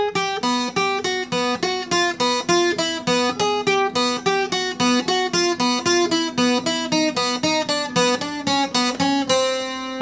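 Requinto guitar plays the complete part of a song as a fast, steady run of bright plucked notes with an even rhythm, close and clear, with no voices.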